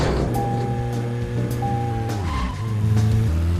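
A car driven in the video game Deadly Premonition gives a steady, loud engine drone with sustained tonal hum and a shifting pitch near the end, continuous and close with no talking.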